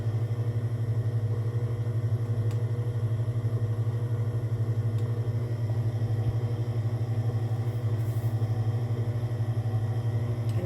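An electric stand mixer hums steadily on its slow setting while mixing chocolate pound cake batter, a constant low drone with a few faint ticks and no voices.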